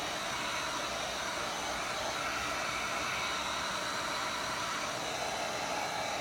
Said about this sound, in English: Keep your heat gun away, your nozzle away from your board